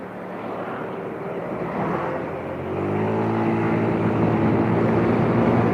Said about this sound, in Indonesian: ini mesin kayak nggak menderu, tapi kecepatan udah tinggi